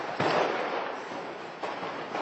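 Ammunition depot blowing up in Afrin, with rounds cooking off like fireworks: a sharp, loud blast opens a dense crackling roar that decays over about two seconds, then a second burst erupts near the end.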